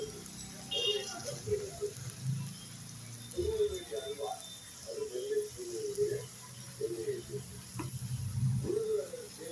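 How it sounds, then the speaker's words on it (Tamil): Okra (ladies finger) deep-frying in hot oil gives soft, intermittent sizzling bursts, faint and close, while someone talks over it. "இந்த மாதிரி எண்ணெயில் போட்டு பொரித்து எடுத்துக்கோங்க."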